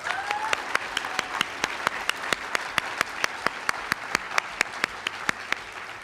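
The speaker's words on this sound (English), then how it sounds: "Let's give them another round of applause." Audience applause at the 2018 Cradle to Career Network Convening for award recipients, a steady wash of many hands clapping in a large room with one louder nearby clapper adding regular sharp claps, no voices over it.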